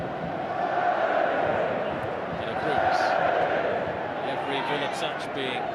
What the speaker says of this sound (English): Touch being greeted with a cheer.